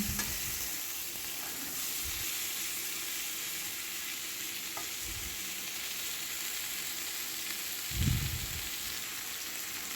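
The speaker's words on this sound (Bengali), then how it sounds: "এরপরে আমি কড়াইয়ে পটল আর সজনে ডাঁটাটা আমি ভেজে নেবো তেলের মধ্যে" Pointed gourd and drumstick pieces fry in oil in a wok, a faint steady hiss with a few low, soft stirring thumps.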